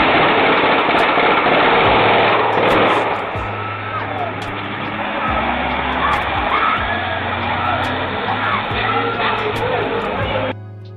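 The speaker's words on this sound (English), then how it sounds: "The car again." A loud car engine roars close by with rushing road noise, easing off after a few seconds and continuing steadily, while voices talk underneath.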